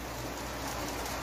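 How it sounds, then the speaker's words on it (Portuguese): Steady rain falls outside a home kitchen, a dense continuous hiss of drops with no talk. "Só tá chovendo, o barulho da chuva."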